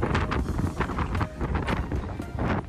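Heavy wind buffeting the microphone at a riverside ghat in Buxar, a continuous loud low rumble with gusty swells throughout and no clear talk.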